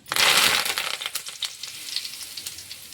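Curry leaves dropped into hot oil for a vegetable and pea kurma gravy, a loud burst of crackling sizzle that eases into steady frying with scattered pops, close up and alone.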